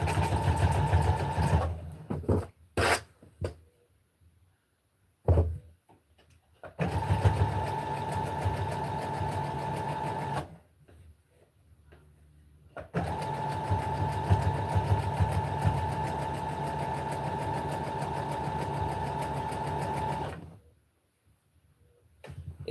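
Sewing machine stitching fabric in several long runs of steady, loud mechanical whirring, separated by short pauses and a few brief stop-start bursts.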